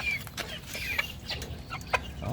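Backyard roosters cluck in a few short, scattered calls over a low steady rumble of background noise, fairly close and moderately loud.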